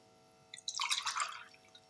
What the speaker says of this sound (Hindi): इसी गिलास से मैं पानी ऐड करूँगी